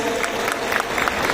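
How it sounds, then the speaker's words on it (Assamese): An audience at a Mahalaya community felicitation ceremony in Jagiroad claps, a dense, steady round of applause from a crowd throughout. "এবাৰ জোৰে হাত চাপৰি হ'ব লাগে ৰাইজ।"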